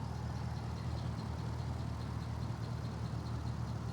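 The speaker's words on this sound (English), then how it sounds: "Engine sounds nice and smooth." A 2005 Pontiac GTO's 400 hp LS2 V8 with a K&N cold air intake and factory exhaust manifolds idles steadily with a low, even rumble and smooth, constant hum, recorded close up with no talking.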